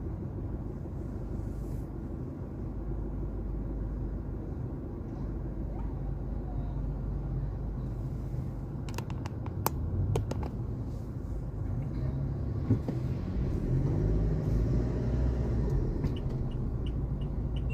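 Steady low rumble of daily road traffic heard from inside a car, a constant engine and road drone with a few faint clicks and passing vehicle swells, no talking.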